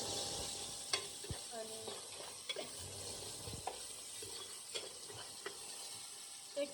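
Onion, garlic and ginger sizzle quietly in a pan. A spoon now and then scrapes and taps against the pan over a constant faint hiss. A single word is spoken briefly.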